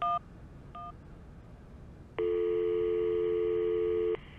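A telephone line signal inside the video game Syberia: two short electronic beeps, then after a pause a steady, loud two-tone ring lasting about two seconds before cutting off.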